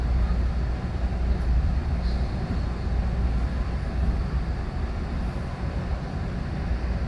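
A steady low rumble of a moving exo commuter train on the Montreal–Mascouche line heard from inside a rail car, constant and loud, with faint rattles and no speech.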